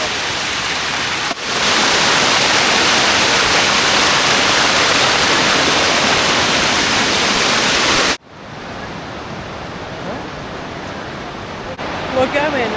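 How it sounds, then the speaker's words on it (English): Tumpak Sewu waterfall, a loud dense roar of falling water filling most of the clip, then dropping abruptly to a softer, more distant rush as the view changes. "We're now hiking down to the actual waterfall."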